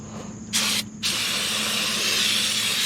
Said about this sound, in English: I gotta spray everything off with some brake clean